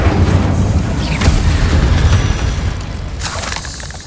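The Incendio fire spell in Hogwarts Legacy, cast against a spider in a mine, gives a loud, dense whooshing roar of flame with a booming low rumble that holds steady for about four seconds before easing slightly.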